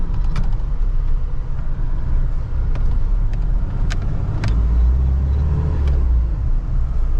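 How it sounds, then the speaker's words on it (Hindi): A Mahindra Bolero engine while driving, a loud, steady low rumble heard from inside the cabin with faint clicks and knocks over it. "गाड़ी के इंजन साउंड तो क्या ही सुनाऊँ, काफ़ी है"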